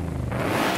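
Supercharged Ford Mustang GTD engine revving in the racing game Forza Horizon 5, a steady, dense, loud rumble with no talk over it, rising slightly in intensity toward the end of the short burst.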